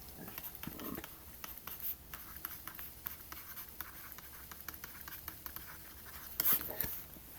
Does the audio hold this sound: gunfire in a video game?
no